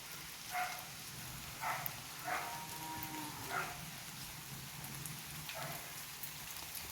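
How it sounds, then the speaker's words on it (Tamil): Steady rain falls around a village of ruined Shiva and Perumal temples, a soft continuous hiss with a few faint brief sounds rising over it. "இன்னைக்கு மழையாக இருக்குது"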